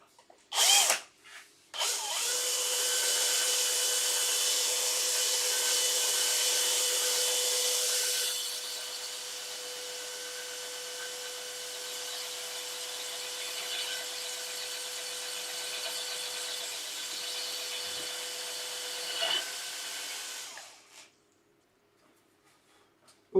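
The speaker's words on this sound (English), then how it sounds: "And we'll drill the holes" A power drill bores holes for a bedside cabinet handle in a wooden piece clamped to a workshop bench, a long steady whine that lightens midway and runs about twenty seconds before stopping.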